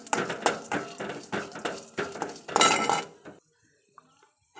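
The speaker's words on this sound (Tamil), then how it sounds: "அதையும் போட்டு நல்லா வதக்கணும்" A spoon clatters rhythmically in a pan as green chillies and urad dal are sautéed for carrot poriyal, with repeated metallic scraping strokes for about three seconds, then near silence with a faint tap.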